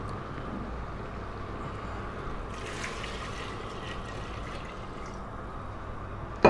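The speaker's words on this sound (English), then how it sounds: "Very simply, we're gonna add water." Water is poured steadily into a pot of bones for beef broth, a continuous, even rushing flow that holds at a moderate level with no talking over it.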